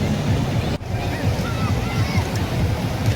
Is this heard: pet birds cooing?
no